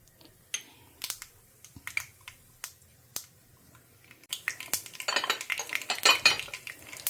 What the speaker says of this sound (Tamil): கடுகு பொரிய ஆரம்பிச்சிடுத்து